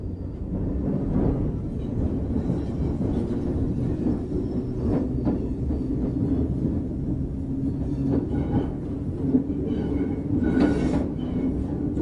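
A Network SouthEast electric train from 1991 runs under low power in series notch between London Bridge and Cannon Street, a steady rumbling drone of motors and wheels with occasional clicks and squeals throughout, no talk.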